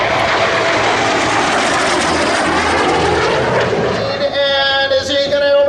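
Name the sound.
T-33 Shooting Star jet aircraft flying at an airshow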